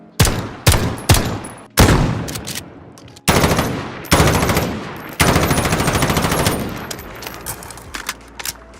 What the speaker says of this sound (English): We could even look at gunshots from Call of Duty.